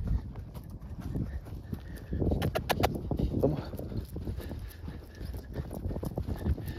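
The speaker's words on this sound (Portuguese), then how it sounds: "Esse cavalo é muito bom pra andar." Hooves of a gaited marchador horse walking at a steady ambling rhythm, close and moderately loud, with faint outdoor background on a rural farm.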